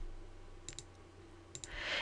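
Computer mouse clicks while updating settings in a WordPress admin page: a few faint double clicks, one pair near the middle and another shortly after, each quick and light, with quiet room noise and a louder hiss at the end.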